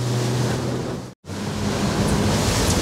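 A following sea rushes around a Yellowfin 7000 Southerner boat heading in over a bar in rough water: a steady, loud wash of surf and wind buffeting, broken by a brief dropout, with no talk.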